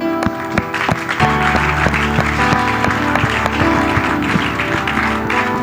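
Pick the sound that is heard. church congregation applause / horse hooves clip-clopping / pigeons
church congregation applause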